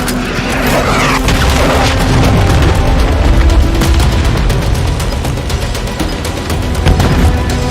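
Dense, continuous rumble of explosions and gunfire in a Call of Duty Modern Warfare III battle, with a loud missile blast among heavy booms and crackling debris, sustained and near throughout with no pause.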